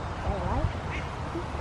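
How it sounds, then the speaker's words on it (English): Ducks give a few raspy quacks close by outdoors, mixed with other bird calls, while people chat over them. "Oh, quack. Not many ducks today."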